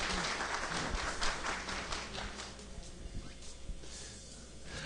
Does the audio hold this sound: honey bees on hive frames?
no